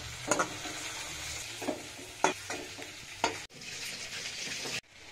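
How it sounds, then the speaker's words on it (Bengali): Small prawns shallow-frying in hot oil, a steady close sizzle broken by several sharp scrapes and clicks as the pieces are stirred and lifted out of the pan. "অল্প করে চিংড়ি মাছ ভেজে নিয়েছি, এগুলোকে তুলে নিচ্ছি"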